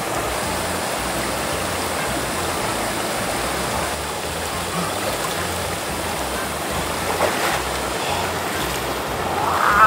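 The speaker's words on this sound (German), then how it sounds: "das ist ja ein reißender Fluss" Rushing, fast-flowing river water, a dense continuous broadband roar heard close and loud, steady throughout with slight surges toward the end and no clear speech over it.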